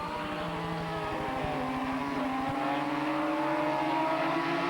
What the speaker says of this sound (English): Klaus Graf is racing towards 4th place